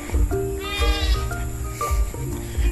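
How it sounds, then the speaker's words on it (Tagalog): A tethered goat bleats repeatedly at close range on a farm during a dry hot season, several wavering cries spread across a few seconds. "May kambing po doon, natali naman."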